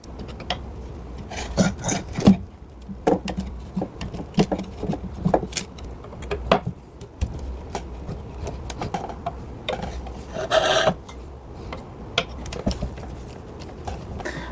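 A screwdriver backs four screws out of the corners of a worn chair seat, giving close, scraping, grinding turns in uneven bursts with small clicks and no talking.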